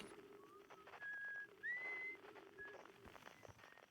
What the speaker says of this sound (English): Someone's whistling nearby.